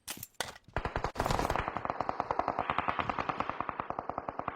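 Rapid automatic gunfire from a red gun in the battle royale game PUBG, an opening burst of loud shots and then a long, steady stream of evenly spaced rounds, close and alone with no talk.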